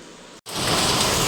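Heavy rain pours in a dense, loud hiss that swells suddenly after a brief dip near the start and then stays steady and close.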